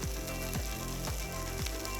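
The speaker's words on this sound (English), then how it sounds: "I'm just gonna add it to my warm pan. Hear that nice sizzle?" Chorizo sizzles in a warm pan, a soft, continuous frying crackle that is faint and alone, with a few quiet bumps along the way.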